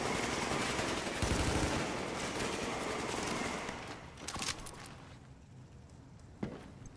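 Gunfire in the video game The Division, rapid automatic bursts over a dense, steady layer of combat noise, loud at first and then easing off with a few sharper reports.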